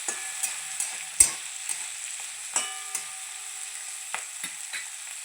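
Cumin and mustard seeds pop in hot oil while a spoon stirs the pan, giving a faint sizzle punctuated by sharp, irregular crackles and clicks at close range.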